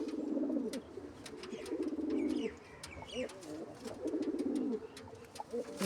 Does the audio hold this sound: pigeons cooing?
yes